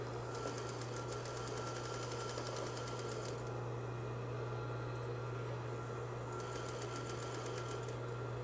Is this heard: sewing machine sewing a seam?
yes